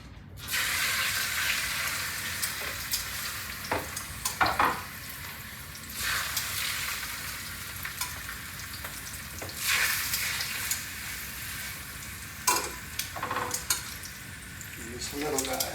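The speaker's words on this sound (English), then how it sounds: "I'm going to sear the chicken breast now." Seasoned chicken breast, rubbed with salt, pepper and garlic powder, sears in a hot pan over medium heat, a steady loud sizzle with occasional clinks and scrapes of a utensil against the pan.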